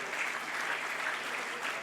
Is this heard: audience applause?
yes